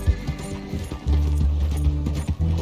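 A horse named Roach in the Red Dead Redemption 2 video game whinnies and its hooves clip-clop in a quick, loud, close galloping rhythm, with no talking over it.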